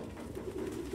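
Pigeons coo steadily in a Detroit: Become Human scene, a soft, continuous low warbling from a flock that fills the whole moment without any voices.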